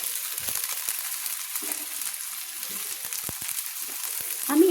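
Chopped green beans sizzle steadily in hot oil, frying for a homemade street-style veg chowmein, a close, even hiss that stays alone and picks up slightly at the end.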